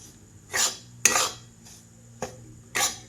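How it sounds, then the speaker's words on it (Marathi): Ragi flour being roasted in a pan, heard as four separate scraping strokes of a spoon against the metal, crisp and close with quiet gaps between them. "मस्त एकसारखं हलवून छान असं भाजून घेणार आहे।"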